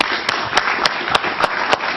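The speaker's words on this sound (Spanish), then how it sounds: "Un aplauso para él" Sharp rhythmic claps, spaced evenly about every third of a second, loud and close, with no voices over them.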